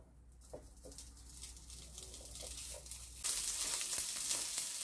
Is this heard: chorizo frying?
yes